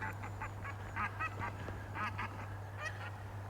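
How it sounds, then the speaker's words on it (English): Several geese honk repeatedly in short, overlapping calls at a moderate distance, over a constant low electrical hum. "I got the geese closed in the orchard."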